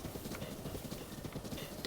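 Horse hooves clip-clop at a brisk, even trot in the video game The Legend of Zelda: Breath of the Wild, a dense patter of soft thuds heard close and continuous over a short stretch with no speech.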